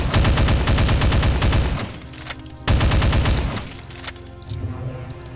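Assault rifle fire in Heretic with the Complex Doom mod, two long sustained bursts of rapid automatic shots, loud and close, separated by brief pauses with sharp tail-off echoes.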